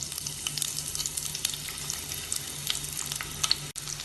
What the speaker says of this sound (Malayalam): എണ്ണ ചൂടാവുമ്പോൾ ഇതിലേക്ക് വലിപ്പം കുറഞ്ഞ ഒരു സവാള നേരത്തതായി മുറിച്ചത് ചേർക്കാം.